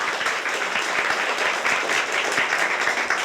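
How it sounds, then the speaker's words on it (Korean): A church audience claps together to welcome first-time visitors, a dense, steady patter of many hands without pause, fairly loud. "박수 한번 드리겠습니다"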